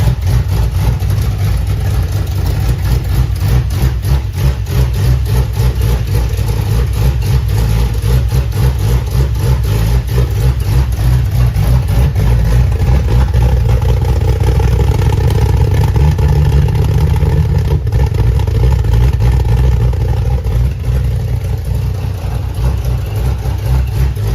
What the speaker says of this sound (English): I was able to lower the fuel pressure a little bit and get the engine to actually start up and run.